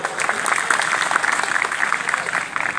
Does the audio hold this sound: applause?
yes